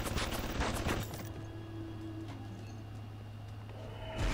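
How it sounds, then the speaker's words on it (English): Gunfire in the video game BioShock, a burst of rapid, crackling shots in the first second, then quieter game ambience with a low steady hum and faint scattered sounds. "And something's shooting at me."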